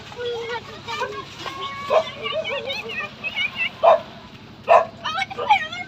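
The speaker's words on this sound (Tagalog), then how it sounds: "Kala ko may aso." Several short, sharp dog barks and yips ring out at intervals over a steady background of people chattering and moving around.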